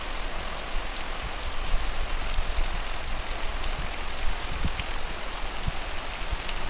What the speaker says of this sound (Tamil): இன்றைக்கி ஹெவி ரெயினாக இருந்துச்சு.